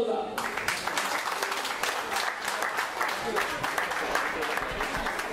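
Applause from the audience at a Konkani musical concert, a dense, continuous round of clapping that holds steady and fairly loud throughout, with faint crowd murmur mixed in.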